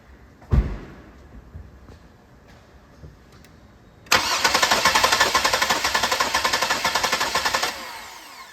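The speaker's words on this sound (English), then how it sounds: "I'm just gonna crank it over and see if we even have spark." A car engine being cranked over without firing during a no-spark ignition test, a steady rapid rhythmic cranking that runs loud and close for several seconds after a quiet stretch with a brief thump, then cuts off.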